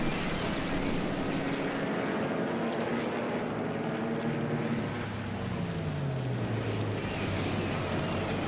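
Bomber aircraft engines drone steadily in a World War II naval combat video game, a dense, continuous propeller roar with a slowly falling tone partway through, loud and unbroken with no talk.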